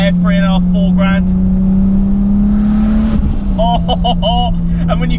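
Turbocharged Lexus IS200 engine with a screamer pipe, holding a steady drone then dumping off throttle with a burst of hissy, chattering blow-off noise; someone talks over it.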